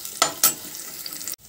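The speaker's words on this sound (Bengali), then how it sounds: "পেঁয়াজটাকেও আমি হালকা ফ্রাই করে নেব" Onion frying lightly in a pan for a restaurant-style white sauce pasta, a steady close sizzle broken by two brief bursts as it is stirred, then cutting off abruptly near the end.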